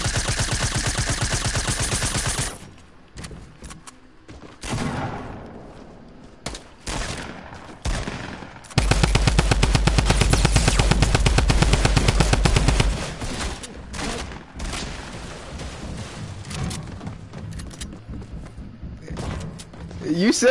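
Video game gunfire rattles in heavy, rapid bursts, loud and close, with long sustained volleys broken by short gaps and thuds. Voices talk over parts of it.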